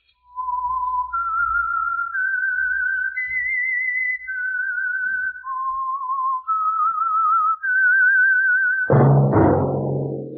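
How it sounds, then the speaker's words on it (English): A lone whistler carries the signature melody for The Whistler radio drama, a 1940s program, as a clear, slow sequence of sustained wavering notes climbing and falling. It ends in a sudden loud burst of orchestral or sound-effect noise. "That whistle is your signal for the Signal Oil Program, The Whistler."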